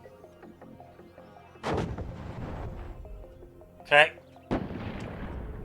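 Artillery and gun fire in the WARNO strategy game: a few sharp, loud blasts spaced over several seconds against a quiet background hum, with brief speech.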